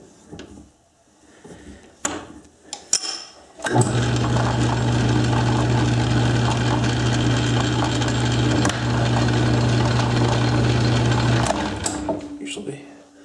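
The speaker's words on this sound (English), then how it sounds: "if I put the lathe in gear here" Metal lathe engaged in gear, a steady mechanical whirring drone with a strong low hum that starts abruptly after a few seconds of quieter shop noise, runs evenly and close, then cuts off near the end.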